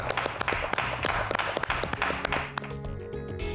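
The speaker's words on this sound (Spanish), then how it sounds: "Aplauso para la gente de todo el país" Studio audience applause closes a weekend Argentine television program, a dense patter of clapping that runs for a few seconds before dropping away as music takes over.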